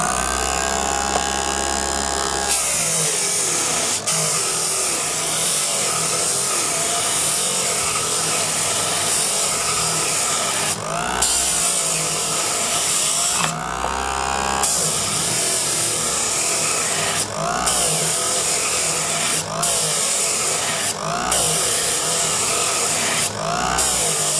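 A disc sander whines steadily at high pitch for a long stretch, its tone shifting slightly as it grinds against a curve in softwood, with no voices.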